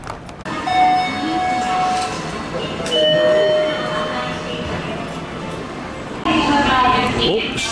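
Interior of a Kintetsu Nara Line train running toward Nara, a steady rumble of wheels and motor with tonal whines and brief higher squeals, heard under a constant background of passenger voices.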